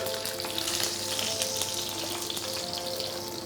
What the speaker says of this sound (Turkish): Etlerimiz yeteri kadar mühürlendi. Karamelize rengini aldı.